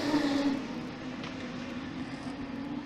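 A modified sedan race car drones around a clay racetrack, a steady distant engine note holding pitch without a clear pass-by.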